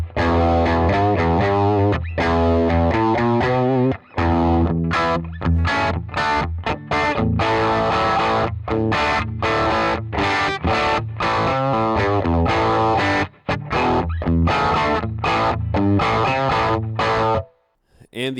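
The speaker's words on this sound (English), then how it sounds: "I would leave it on all the time to simulate a more Marshall sound at a lower volume" Electric guitar driven through a Box of Rock Marshall-in-a-box overdrive pedal into an amp at low volume, giving a crunchy Marshall-style distortion; loud, rhythmic chords with brief pauses, ending abruptly, no talking.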